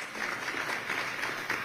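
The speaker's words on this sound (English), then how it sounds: "You can applaud on this one." An audience applauds debate candidates at a Seattle City Council District 5 debate, a steady, fairly loud wash of clapping that lasts throughout.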